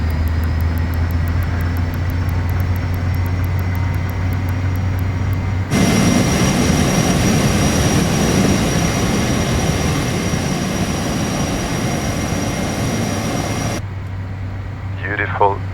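Twin jet engines of a Learjet 35A climb out in a flight simulator, a steady broadband roar that swells suddenly, holds for several seconds, then drops back to a quieter cockpit hum with a faint tone.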